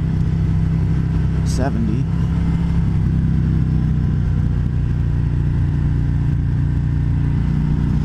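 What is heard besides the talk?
2020 Harley-Davidson Road King Special motorcycle engine while riding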